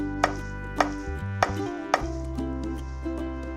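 A knife cuts thin lengthwise slices through a porcini mushroom on a board, making four or five crisp taps at an even pace, close and alone.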